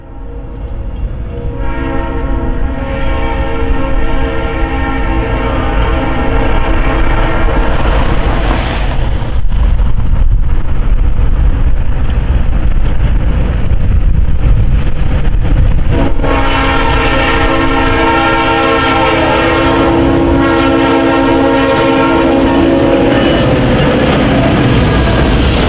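South Shore Line freight trains pass close by, a loud continuous rumble and rail roar carrying sustained multi-tone horn blasts that sound early, fade briefly mid-pass, then return strongly near the end.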